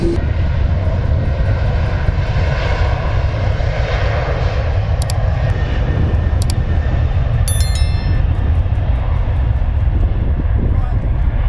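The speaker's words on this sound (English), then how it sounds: "It seems the new runway just entered its first major test with a Qantas aircraft serving as the examiner weighing hundreds of thousands of pounds." A heavy Qantas airliner on a new runway, its engines producing a loud, steady roar that fills the whole stretch without a break, with faint higher whines and crackles on top.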